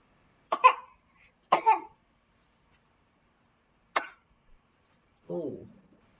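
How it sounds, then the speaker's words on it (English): Four separate coughs ring out, fairly close and moderately loud, with short gaps of silence between them. The first two come in quick succession, then a lone cough follows after a pause, and the last is a softer, throatier one. "coughing."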